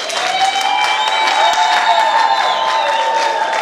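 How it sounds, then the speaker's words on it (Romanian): Festival audience applauding the Păunașii folk group at a traditional customs gathering, loud steady clapping filling the whole stretch with a few cheers mixed in, close and continuous. "să mai aplaudăm încă o dată pe grupul Păunașii"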